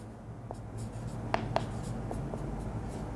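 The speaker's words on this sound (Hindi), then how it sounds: "और सबसे पहले जो फाइंड करना था वो लिख लेंगे" Pen scratches on paper while a physics numerical on simple machines is written out, soft close strokes with a few sharper taps over quiet room hiss.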